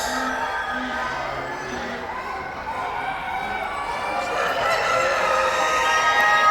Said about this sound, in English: These are some of the roosters here as well.